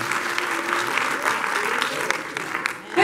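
A church congregation claps steadily for a few seconds, the applause dense and fairly loud before briefly dipping near the end.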